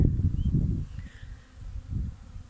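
Honeybees swarm around a burst hive in winter, giving a dense low buzz that swells, dips, and swells again, with no talking.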